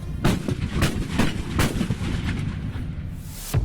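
Several heavy artillery booms from an Astros military system thud out in quick succession, each a sharp blast with a rolling tail, loud and fairly close.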